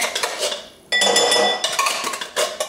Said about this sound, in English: Get all your beans in the bowl.